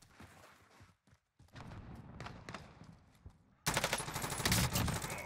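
Gunfire in an online shooter video game. Faint, far-off shots and rattling come first over quiet game ambience, then a louder, sustained burst of rapid fire near the end.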